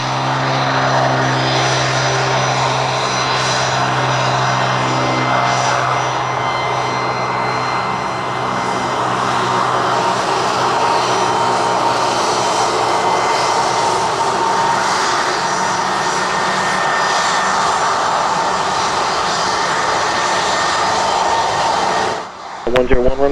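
A private jet takes off from runway 26 left at Spirit of St. Louis Airport, a loud sustained engine roar held steadily for over twenty seconds before a brief dip and clatter at the end.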